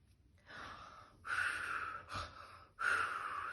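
A woman reading a Christmas story aloud imitates Santa snoring with her voice, giving two long, breathy snores followed by a short snort.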